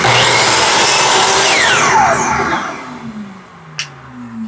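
A saw cuts the short cutoff from a wooden birdhouse board held against a stop block, a loud, dense, close whine lasting about two seconds before spinning down, followed by a brief clack.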